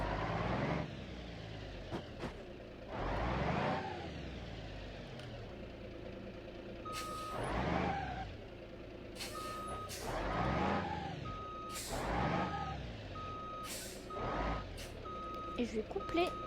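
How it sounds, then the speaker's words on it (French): Repeated reversing beeps from a truck in the driving game BeamNG Drive sound at a steady interval over an idling engine, with a voice talking at intervals. "Je vais prendre le camion."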